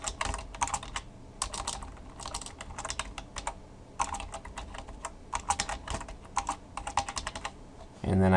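A computer keyboard clatters with rapid bursts of typing as a web address is entered, keys close and crisp in several quick runs separated by short pauses.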